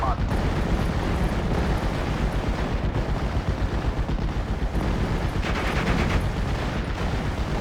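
Tank video game battle in which artillery fire and explosions rumble loudly and continuously, with dense booming impacts and gunfire layered throughout.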